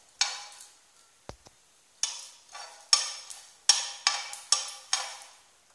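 Cumin seeds roast in a dry pan over a low flame, stirred in about eight short, crisp scraping and rattling strokes, each fading quickly, with a single light tap in between.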